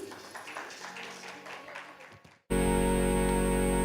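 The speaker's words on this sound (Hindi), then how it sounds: "तालियों से जोरदार स्वागत कर दीजिए प्लीज" Audience applause greets a singer at the Aakhar festival in Lucknow, moderate clapping fading over two seconds before a sudden loud, steady droning tone cuts in.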